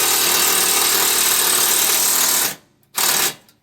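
A 3/8-inch air impact gun loosens bumper bolts on a Kia in a repair shop, giving a loud continuous rattling whir for a few seconds, then a short second burst after a brief pause.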